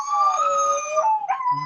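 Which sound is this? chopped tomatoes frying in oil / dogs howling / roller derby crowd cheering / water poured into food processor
dogs howling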